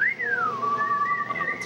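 A single clear whistle from an audience member at a school music revue, sliding down and then holding a wavering tone, fairly close and moderately loud with no talking over it.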